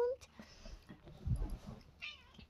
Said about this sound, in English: One like equals one meow out of Katara's face